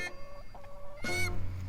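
Chickens cluck nearby in a few short bursts, with a louder, harsher call near the end. No voices.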